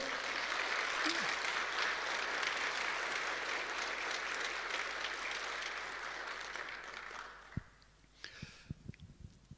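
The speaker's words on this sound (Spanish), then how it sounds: "Dale un fuerte aplauso al Señor" Church congregation applauding the Lord, a broad sustained wash of clapping that tapers off near the end into a few scattered claps and thumps in a quieter room.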